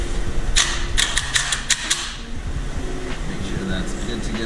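A hand tool snaps through a quick run of sharp mechanical clicks while tightening a sport bike's oil filter, then gives way to a low steady hum of background noise.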